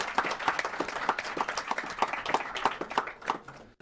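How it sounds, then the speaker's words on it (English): A round of applause from the attendees of a youth commission meeting, dense steady clapping from many hands lasting several seconds, moderately loud and close, fading slightly at the end. "We should give a round of applause."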